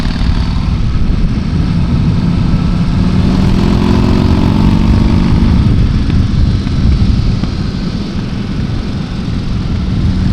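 A Buell motorcycle engine droning steadily while riding the winding Tail of the Dragon road, loud and close with heavy wind rush and a brief rise in pitch mid-run.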